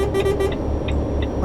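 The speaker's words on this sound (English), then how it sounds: "They've changed the horn sound." A truck horn in Euro Truck Simulator 2 gives three quick loud toots followed by fainter repeated beeps, with a steady engine rumble underneath.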